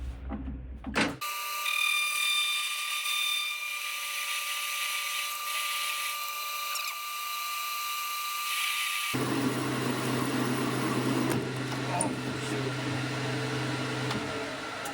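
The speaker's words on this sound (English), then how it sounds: "got my parting tool in here, and we're gonna plunge right through these hardened splines" A parting tool on a Tormach mill plunges through hardened splines, giving a loud sustained high-pitched whine with steady tonal squeal that shifts abruptly to a rougher, lower grinding tone partway through.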